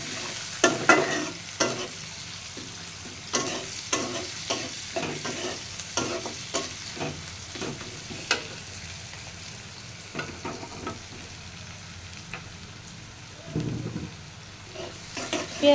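Chopped onions frying in a pan for tilapia curry, steady soft sizzle broken by repeated rhythmic scraping of a spatula stirring, close and moderately loud, with no voices.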